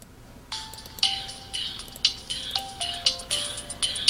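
Incoming call ringtone on a Samsung Omnia smartphone: a bright electronic chime melody of short repeated tones in a steady rhythm, clear and close with no talk.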